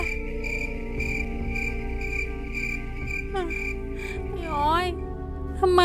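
Crickets chirp at night in a steady pulsing rhythm over a low background hum, and a swooping tonal sound rises and falls toward the end.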